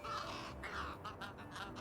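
Crows cawing in the video game Little Kitty, Big City, several harsh repeated caws close by over a steady game background, with no talk.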